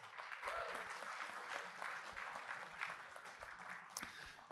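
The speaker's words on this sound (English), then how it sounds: "Give him a round of applause," A crowd at a comedy roast during a Singapore crypto conference claps, a fairly quiet, uneven patter of applause with scattered louder claps and a sharp pop near the end.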